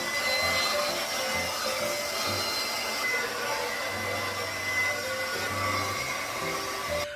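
A hair dryer fitted with a diffuser dries type 4 curly hair, a steady, loud whooshing drone that runs unbroken throughout with no voices.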